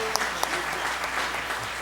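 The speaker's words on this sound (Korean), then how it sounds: "예, 박수 한 번 더 해주세요." Church congregation applauding during an Easter Sunday service, a short burst of steady clapping with a few sharp individual claps standing out.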